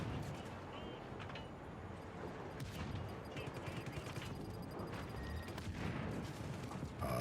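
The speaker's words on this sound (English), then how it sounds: "Who's shooting at me?" Video game gunfire aimed at the player, a rapid fusillade of sharp cracks and bursts mixed with mechanical clatter, fairly dense and continuous under light game noise.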